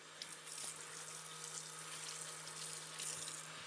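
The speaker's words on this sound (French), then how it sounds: "Petite rincette des mains." Tap water running steadily over hands being rinsed at a kitchen sink during meringue preparation, a continuous even splashing hiss, close and fairly quiet, with no talk.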